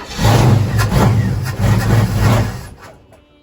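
A 1961 Chevy Apache truck engine runs roughly on starting fluid, a loud, close, uneven rumble with surging pulses for about two and a half seconds before it sputters and dies away.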